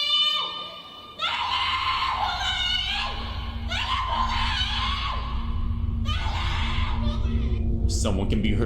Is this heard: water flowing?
no